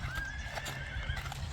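A Don-Kyrgyz crossbred horse at a sale gives a clear, close neigh over a steady patter of hooves clip-clopping throughout.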